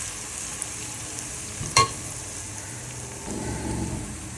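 Moong fritters drop into a hot pan where garlic and ginger were frying, giving a sharp clink followed by soft rising sizzle over a low background hiss.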